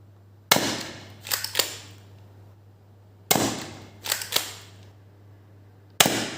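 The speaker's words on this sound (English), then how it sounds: "DZP MK2 trigger pull test after doing the two modifications on the trigger itself." A DZP MK2 trigger with a modified mechanism snaps sharply in three bursts, each a loud crack followed by two quicker clicks, recorded up close with quiet pauses between.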